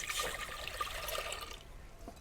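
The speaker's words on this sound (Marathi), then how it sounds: "कुकरमध्ये आता पाणी टाकून घेऊ" Water pours into a pressure cooker sitting on a lit wood-fired clay stove. The splashing rush is faint and brief and stays steady throughout.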